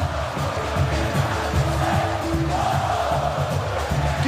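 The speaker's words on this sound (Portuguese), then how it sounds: "A torcida do Botafogo pode comemorar" Botafogo football fans cheering and celebrating, a dense roaring crowd with shouts and chanting, loud and continuous without a break.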